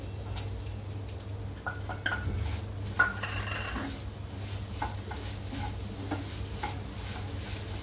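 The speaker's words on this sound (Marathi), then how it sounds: "ते नारळ छान परतले गेले, त्यामध्ये आपण घालूया गूळ।" Grated coconut and jaggery stirred together in a pan for modak filling, with soft sizzling and repeated scrapes and taps of a spoon against the metal pan, close and fairly quiet, without talking.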